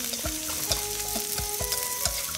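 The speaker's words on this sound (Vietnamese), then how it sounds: "Mình sẽ phi xả tỏi cho thơm lên." Lemongrass and garlic sizzle steadily in a hot pan of oil, with several sharp stirring clatters of a utensil breaking through the continuous frying hiss, close and fairly loud, with no talking.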